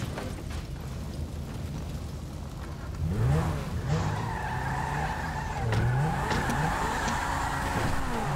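Car in the GTA 5 video game driving off, a steady engine drone that grows louder partway through, with rising engine pitch sweeps and tire noise, no talking.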